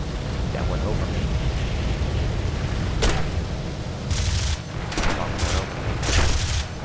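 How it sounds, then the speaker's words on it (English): Bomber tail gunners fire their machine guns in War Thunder: short, sharp bursts of gunfire crackle over a constant heavy engine drone, coming in clusters during the second half, with someone talking throughout. "there are our tail gunners, or our gunners, I should say, activating defense mode"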